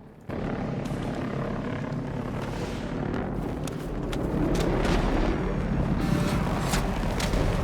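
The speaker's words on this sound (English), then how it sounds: "And then a Condor turns up." A Condor helicopter in a video game roars close and loud, a continuous rotor and engine din that swells midway, with sharp crackling bursts layered over it.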